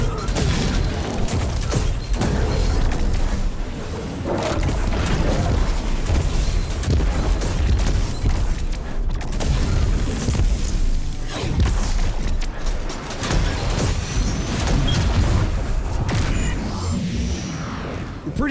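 Repeated explosions in Destiny from a Voidwalker build using Nezarec's Sin and the Graviton Lance: loud, overlapping booms and crashes mixed with gunfire, going on nonstop for the full stretch.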